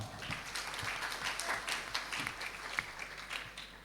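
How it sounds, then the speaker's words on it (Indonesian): A crowd applauds at a high school graduation ceremony with steady, dense clapping that holds throughout, with no pauses. "tepuk tangan untuk kita semua"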